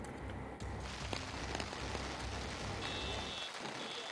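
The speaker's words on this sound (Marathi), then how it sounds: "आज सकाळपासूनच या ठिकाणी पावसाने जी जोरदार हजेरी लावलेली आपल्याला पाहायला मिळते" Heavy rain pouring in Alandi near Pune, a steady, loud wash of drops drumming on surfaces close by, continuous with no voices.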